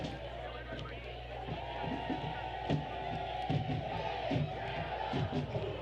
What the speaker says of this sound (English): Sadie sets him up, and what a start in front of a great crowd here at Keyworth Stadium